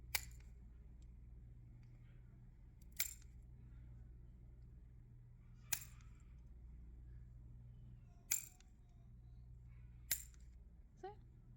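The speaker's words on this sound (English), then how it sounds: "So I'm just going to cut the length down on all of my tips." A tip cutter clips Gel-X nail tips short, five sharp, faint snips spaced a few seconds apart in a quiet room.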